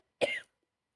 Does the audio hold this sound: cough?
yes